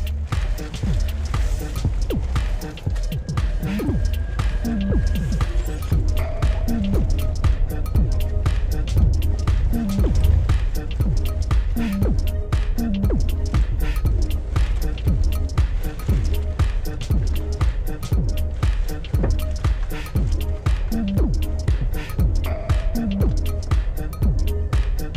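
A 2021 Tata Safari, front-wheel drive and set to rough road mode, crawls off-road over a rough patch, with steady cabin rumble and repeated thumps and knocks from the suspension throughout while people talk inside.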